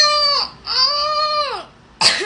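A voice imitates a baby crying: two drawn-out wailing cries followed by a short sharp burst, close and fairly loud.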